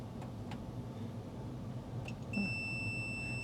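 Continuity beep from a multimeter touched to the chassis ground point of a Lucent PortMaster 3 dial-up access server: a single steady tone starts near the end and holds over a low background hum, fairly clear and close.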